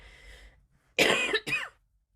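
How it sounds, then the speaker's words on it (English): Two sharp, harsh coughs close to the mic, one right after the other, with quiet before and after. "Oh, I wish this cough would just go away."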